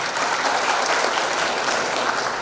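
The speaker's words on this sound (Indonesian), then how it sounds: "Tepuk tangan untuk kita semua." Dense, steady applause fills a university graduation ceremony in Indonesia, a continuous loud wash of many hands clapping together with no break.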